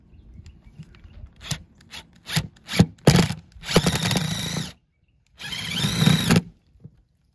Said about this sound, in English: we should be able to take these four screws, slip them right into those pilot holes